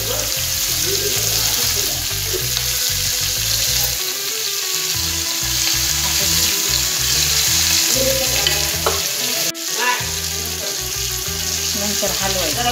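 Pieces of malé fish fry in hot oil in a kadhai, giving a loud, steady sizzle that runs without a break, with occasional scraping from stirring and no voices.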